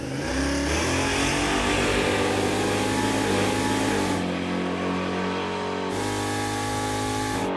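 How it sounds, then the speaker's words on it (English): A Chevrolet Impala drag car launches hard off the starting line at a drag strip, its engine roaring loud and close with a brief drop in the roar at a gear shift before pulling again. "Let's see if it pulls a tire off the starting line."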